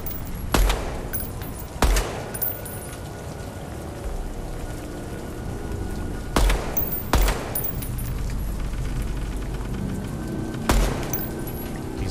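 Sparse, widely spaced gunshots ring out in the target practice area of the shooter game Deadrop, about five sharp reports over steady ambient noise, each with a short decaying tail.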